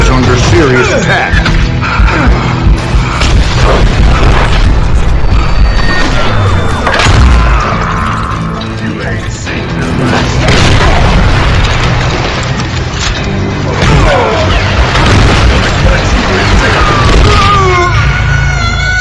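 Repeated grenade explosions in the Western shooter Call of Juarez: Gunslinger, heavy booms and crashes going off one after another through a loud, dense battle with gunfire and a voice talking throughout.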